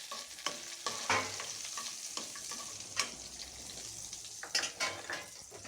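Ginger, garlic and onion sautéing in a pan for mussel tinola with papaya, a quiet sizzle broken by occasional utensil scrapes and light clinks against the pan, with no voices.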